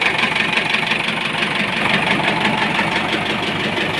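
A 2007 YTO X704 tractor engine mid-rebuild runs steadily, a loud, close, rough, knocking idle with a constant throb and no voices over it.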